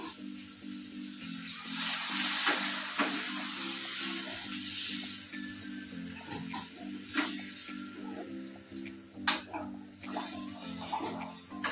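Water poured into a pan of spiced curry that has been fried down, bursting into a loud hiss and bubbling, then settling into a continuous sizzle with a few sharp clatters.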